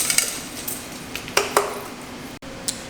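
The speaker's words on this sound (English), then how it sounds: "So we're going to empty the pycnometer right now in a bowl" Wet aggregate tipped from a pycnometer into a bowl, heard as scattered metallic clinks and ringing knocks of vessel against bowl, with a couple of sharper taps midway and a short dropout near the end.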